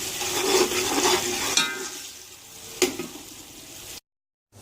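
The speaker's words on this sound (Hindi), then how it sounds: "अब 2 मिनट तक इसे भूनना है हमने।" Vegetables and rice stir-fried in a pan for pulao, heard as close, steady sizzling and frying with scraping stirs and an occasional sharp clink before the sound cuts off.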